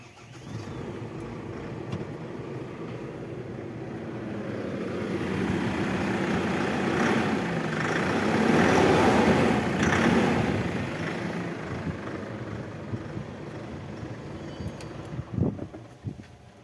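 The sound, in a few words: Ashok Leyland Partner Super 1114HL truck engine running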